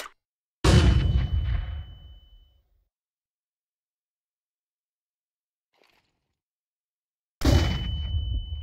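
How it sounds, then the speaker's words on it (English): A CS:GO flashbang grenade goes off twice: a sudden loud blast with a high ringing tone that fades over a couple of seconds, then near-silence, then a second burst with the same ringing tail. "flashbang."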